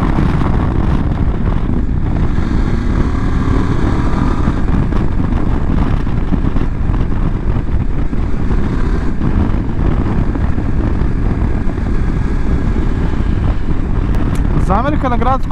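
A 2024 Voge 900 DSX motorcycle accelerating in fourth gear from about 4000 rpm, its engine note rising beneath loud, constant wind rush, with a rider talking throughout.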